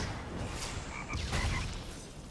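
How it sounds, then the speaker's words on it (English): Frogs croaking in the video game Gat out of Hell, a cluster of chirpy croaks over a murky low in-game ambience, moderately loud with no talk over them. "Frogs?"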